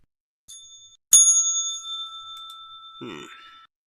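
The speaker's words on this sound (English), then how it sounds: "Tune that bell up." A bell rings out clear and loud: a short faint ding, then a strong ringing strike that sustains and slowly decays over a couple of seconds, with a brief rustle near the end.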